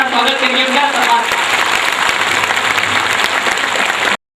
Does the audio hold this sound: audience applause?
yes